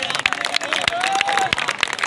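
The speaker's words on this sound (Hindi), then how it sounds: "एक बार भरपूर तालियां आगे से पीछे तक" Crowd applause at the Maha Kumbh Mela on the Sangam riverbank, dense clapping from a large gathering filling the whole short stretch, steady and close.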